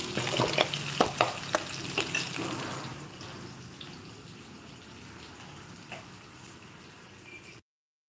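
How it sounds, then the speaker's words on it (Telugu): Onions fry in a pan for tomato bath, with a soft, steady sizzle and a few sharp scrapes of stirring near the start that fade into a gentle hiss before it cuts off. "ఆనియన్స్ కూడా వేసి కొద్దిగా మనం కలుపుకోవాలి"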